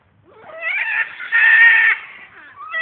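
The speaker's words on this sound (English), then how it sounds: "You hear these fucking birds." Farm chickens or roosters calling loudly nearby at a rural spot with cows and horses, a couple of drawn-out squawking cries with no talking.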